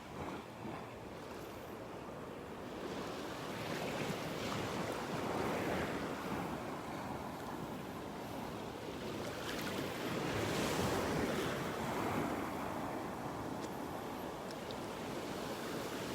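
Waves break on the beach at North Naples, Florida, rising and falling in a soft, continuous wash of surf with light wind and no voices.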